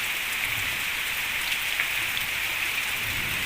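Heavy rain pours down over a village in Purwokerto during strong winds, a dense, steady hiss of drops hitting surfaces without break, loud and close, no voices.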